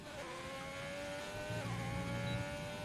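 Haas Formula 1 car in the F1 2020 video game running down the Hangar Straight at the British GP at Silverstone, a steady high engine whine with a lower roar building as it comes through.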